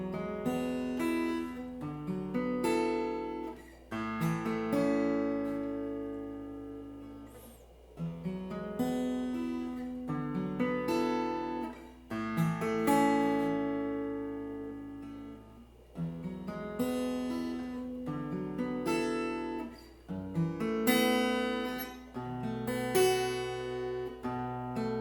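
Guitar playing R&B bridge chords, a run of sustained, ringing chords changing every few seconds, clear and close with no talk.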